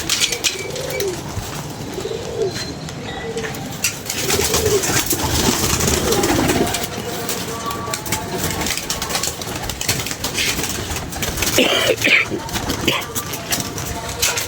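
Pigeons coo repeatedly nearby, their soft throaty calls mixed with people talking and a low engine hum in the background.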